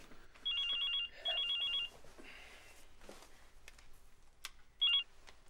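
A telephone rings in a comedy sketch with two bursts of trilling electronic rings close together, then a short third burst after a pause, over faint room noise and a little indistinct voice.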